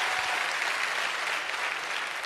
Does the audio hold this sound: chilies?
no